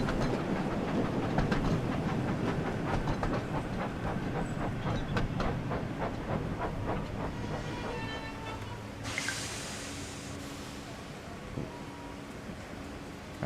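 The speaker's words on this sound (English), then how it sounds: "get in the fucking train, you bastards" A train in a video game rolls along with rhythmic clickety-clack of wheels over rail joints, then slows as a hiss of air brakes or doors sounds near the end.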